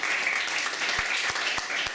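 Audience applause for a physics teacher at a Hungarian teachers' gathering: steady, dense clapping from a crowd filling the room, with a few sharper individual claps standing out.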